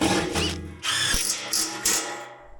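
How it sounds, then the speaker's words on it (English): A power drill whirs in short bursts, drilling holes through a metal plate for a homemade carnival ride, biting into metal with a high grinding whine, stopping and starting several times close by. "I'll go ahead and drill holes through here and bolt that into that plate as well"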